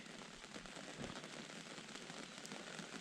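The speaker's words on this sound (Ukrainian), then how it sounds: "уже холодає, дощик починав все дужче дужче йти" Steady autumn rain patters on surfaces beside a pond during a chilly morning carp-fishing session, a soft, even hiss with no voices.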